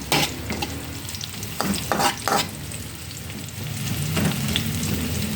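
Onions and Holiday corned beef fry in a pan, making a steady sizzle with a few clattering stirs early on and a hiss that swells toward the end, close and without voices.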